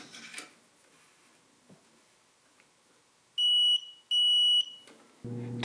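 A continuity tester checks a removed diesel glow plug from a John Deere 755 and gives two clear, sustained electronic beeps in quick succession against a quiet room.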